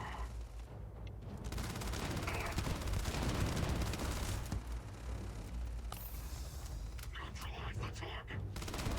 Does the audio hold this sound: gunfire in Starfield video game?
yes